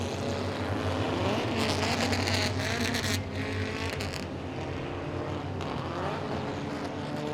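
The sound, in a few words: race cars passing at Langley Speedway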